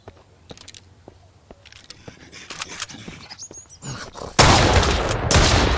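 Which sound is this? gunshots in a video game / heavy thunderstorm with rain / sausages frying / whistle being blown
gunshots in a video game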